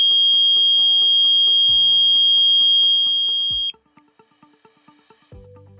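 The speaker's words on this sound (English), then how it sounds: "doing an alarm check." An RKI GX-3R gas detector runs its alarm check in an SDM calibration dock, giving a sustained high electronic tone over rapid pulsing buzzer beeps, then cutting to a series of short spaced chirps.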